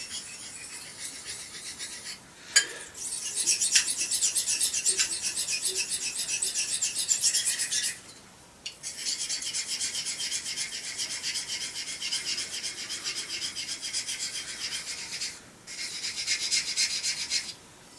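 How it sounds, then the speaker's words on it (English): A dull knife blade stroked across a sharpening stone, close and fairly quiet, giving long rasping scrapes in several sustained passes separated by brief pauses. "I can see that metal rubbing right off fairly well onto this stone"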